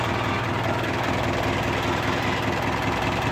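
A mini dump truck engine runs steadily and close by with a loud, continuous low-pitched rumble, idling with a slightly rough, knocking rhythm and no voices over it.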